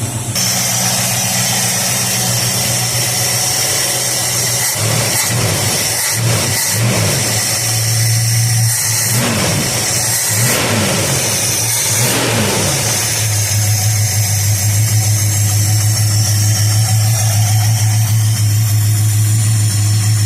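A 1969 Dodge Dart's engine, its carburetor just cleaned after months sitting with old ethanol fuel, runs loud and close, with a few quick revs rising and falling before it settles back to a steady idle hum.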